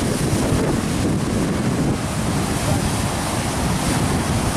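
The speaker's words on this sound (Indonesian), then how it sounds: "Aduh, kencang ombaknya ya." Strong ocean waves crash and roar at Sungai Suci beach in Bengkulu, a loud, continuous surf rumble with heavy wind buffeting the microphone throughout.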